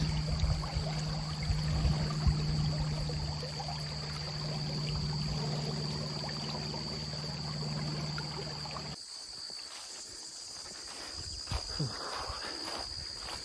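Water from a clear stream or river flows steadily outdoors on a hot summer day, a continuous broadband rush with insect-like buzzing mixed in, changing to a rougher, closer trickle partway through.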